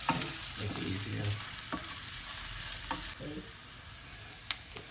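Semolina for upma being stirred and fried in a pan, with a steady close sizzle and repeated scraping strokes of the spoon across the pan throughout.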